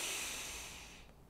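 A long, breathy exhale during a wall stretch, a steady close hiss of air that fades out after about a second, with no talking.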